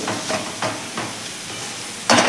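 Ground masala paste and tomatoes with salt sautéing in a pan for dhaba-style whole masoor, a steady close hiss broken by several soft scraping stirs, ending in a sudden louder burst of sizzle.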